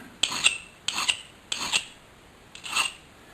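A hand file rasps along a metal edge in four distinct strokes, each a short scratchy grating burst with a pause between strokes, close and without talking.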